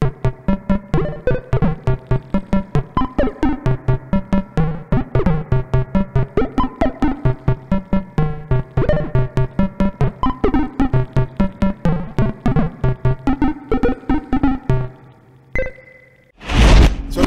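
Marimba Roll synth patch played on a Behringer 2600 semi-modular synthesizer: a fast, steady stream of plucked, mallet-like repeated notes rolling through changing pitches, loud and close, ending in a brief burst of bright noise.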